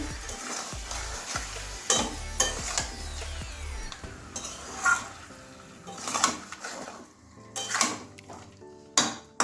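Chicken sizzles in oil at medium heat while a utensil stirs and scrapes the pan with clinks and knocks, close up and steady, with no talking.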